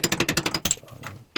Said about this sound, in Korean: 여기는 일단은 망치랑 차 드라이버로 계속 조금씩 깨트려가면서 작업을 했습니다